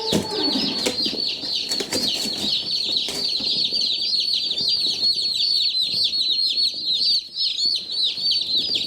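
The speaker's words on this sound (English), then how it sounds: "There they are, 25 little chicks." A box of twenty-five newly arrived baby chicks peeping constantly, a dense overlapping chorus of high shrill cheeps heard up close, loud and continuous with a little rustling beneath.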